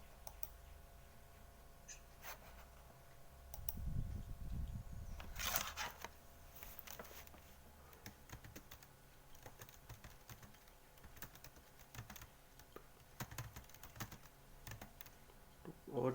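Someone types a query on a computer keyboard, producing irregular bursts of quiet, close key clicks with a few louder taps and a short rustle early on.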